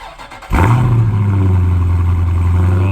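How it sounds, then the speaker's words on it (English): Dodge Scat Pack cold start: a starter whir, then the engine catches with a loud burst and settles into a deep, steady, rumbling high idle, close and alone. "let's do a cold start"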